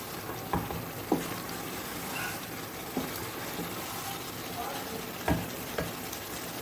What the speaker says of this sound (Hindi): तो 2-3 मिनट से भूनती हूँ मैं अच्छी तरह